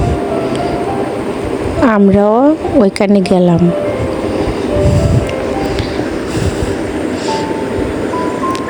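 An engine-powered boat running on the river from the Munshiganj ghat drones steadily and loudly throughout, while someone briefly speaks over the noise.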